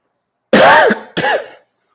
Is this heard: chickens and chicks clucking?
no